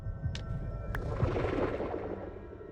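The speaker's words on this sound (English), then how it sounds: "Is that an explosion?" Muffled explosion in a Minecraft-style video game: a soft, rolling boom that swells briefly and then fades into low rumble, fairly faint and with no voices.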